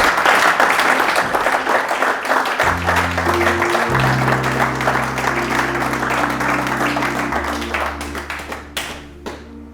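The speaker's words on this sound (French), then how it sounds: "Acclame." Audience applause at a church sermon, sustained clapping from a crowd that stays dense and steady before thinning and fading out near the end.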